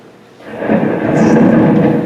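A theatrical thunderstorm effect during a stage musical rumbles up after a brief quiet moment, a loud broad roll of thunder with a rain-like wash that holds steady to the end.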